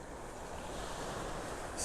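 Ocean surf rolls onto a beach in North Naples, Florida, a steady broad wash of waves with wind rushing across the microphone, continuous and fairly faint, no voices.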